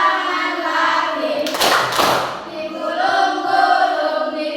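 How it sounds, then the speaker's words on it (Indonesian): A short burst of hand clapping in the middle of a children's action song, standing out briefly over continuous singing and backing music. "Tepuk tangan lagi."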